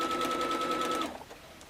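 A sewing machine runs at a steady pace stitching long, temporary basting seams, a close whirring hum with rapid even needle pulses that stops after about a second, with no talking.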